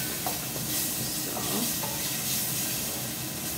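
Ingredients for a Thai curry sizzle in a hot pan, a continuous bright frying hiss with faint crackles. The sound stays steady and close for the whole stretch, with no one talking.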